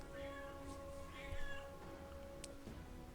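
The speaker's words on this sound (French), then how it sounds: "Et mon chat qui approuve." A pet cat meows once or twice, fairly faint, over a steady electronic hum and background game sound, with no talk.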